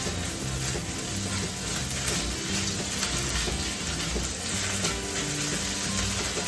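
Leftover bacon frying in a pan, a continuous close crackling sizzle with faint stirring and scraping, no talk.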